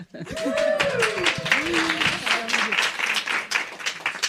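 Applause breaks out, a dense patter of many hands clapping, while a voice speaks over it at the start.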